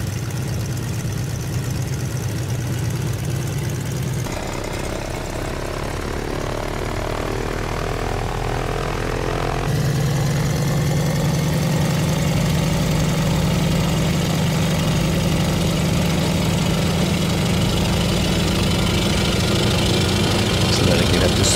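Stearman PT-17 biplane radial engine in Microsoft Flight Simulator, droning steadily through the takeoff run and swelling to a louder, deeper roar partway through as power builds, sustained with no pauses.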